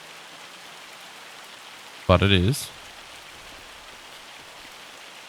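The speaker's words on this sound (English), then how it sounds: "So it's not meant to be hailing right now." Hail falls steadily in the farming video game Farming Simulator, a constant hissing patter throughout, while someone briefly speaks over it midway.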